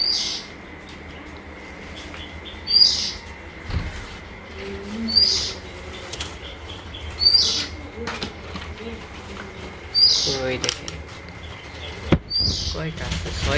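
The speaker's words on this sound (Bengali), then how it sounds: "নাম হচ্ছে কুয়েল পাখি" Small caged quail in a Bangladeshi village, with bursts of wing flapping and short calls repeating every couple of seconds, close by, over a steady outdoor background.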